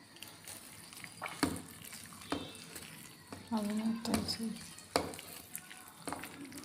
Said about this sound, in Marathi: आपण चांगलं फेटून घेऊया.